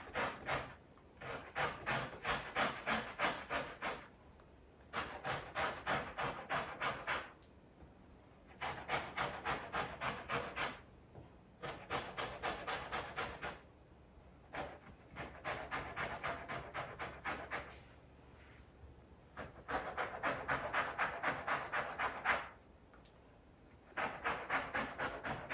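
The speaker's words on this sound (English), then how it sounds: "So we're going to zest the orange." Orange peel being grated with a handheld zester, close rhythmic rasping strokes in repeated bursts of a few seconds each, separated by short pauses.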